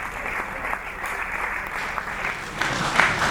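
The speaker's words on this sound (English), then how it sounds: "I deserve an applause." Audience clapping and cheering at a live comedy show in Nigeria, a dense wash of applause sustained throughout and swelling louder near the end, with a few voices faintly mixed in.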